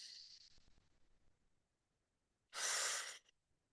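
A single deep breath is drawn and released, a soft airy inhale at the start trailing into quiet, then a louder, breathy exhale of about a second standing alone and close.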